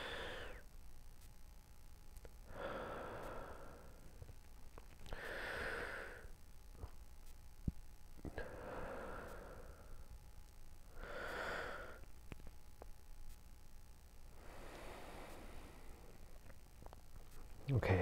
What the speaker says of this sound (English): take three really big, deep, intentional breaths and hold them at the top